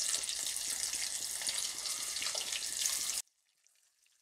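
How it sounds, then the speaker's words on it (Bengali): Flipped chicken fries in hot oil with a steady, bright, close sizzle that continues for about three seconds, then cuts off abruptly into near silence. "চিকেনটাকে আমরা এখন উল্টে দিচ্ছি।"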